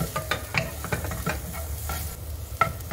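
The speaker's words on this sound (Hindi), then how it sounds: "अब इसमें हम कटी हुई गाजर, कटी हुई थोड़ी सी शिमला मिर्च और मटर सभी को डालकर एक साथ मिक्स करेंगे।" Chopped carrot, capsicum and peas sizzle in a pan while a spoon stirs them, with repeated scraping strokes over a steady close frying hiss.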